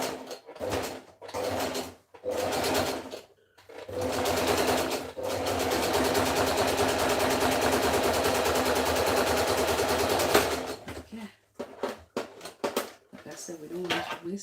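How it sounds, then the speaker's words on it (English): A sewing machine zigzag stitches in a long steady run of about six seconds, framed by shorter bursts of stitching with pauses between them, close and fairly loud. "I want to just quickly go ahead and zigzag this up to keep it neat"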